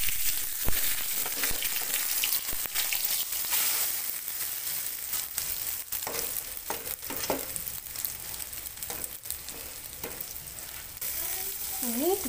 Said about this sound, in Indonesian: Bawahnya agak kering, kita goreng.